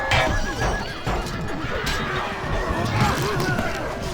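Horses neighing and galloping in a large cavalry clash in the strategy game Rome: Total War, with repeated whinnies over a steady rumble of hooves and battle noise, and a voice talking over it.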